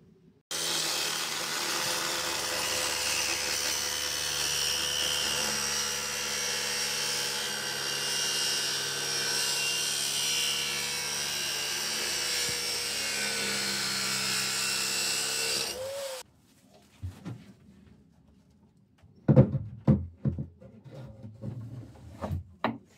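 Power tool making a short trimming cut on a damaged sailboat hull under repair: a loud, steady whine running about sixteen seconds, then stopping abruptly, followed by a few sharp knocks and handling clatter.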